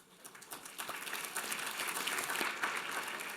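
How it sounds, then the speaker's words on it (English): Audience applause at the Poets & Writers gala, a steady wash of many hands clapping that swells in the first second and then holds full and even, close and alone without any talk. "Pause for applause"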